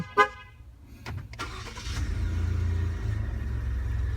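A 2016 Ford F-150 engine starts by remote start: a short horn chirp, a brief crank, then the engine catches and settles into a steady, close idle rumble.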